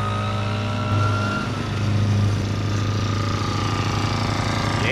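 A BLAZE 49cc gas scooter engine runs while riding, a loud, steady buzzing drone that holds close and continuous throughout with no voices.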